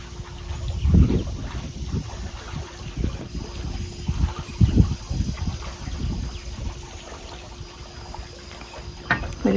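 Gusty outdoor wind buffets a microphone, with uneven low rumbling bursts rising and falling over a steady airy hiss throughout.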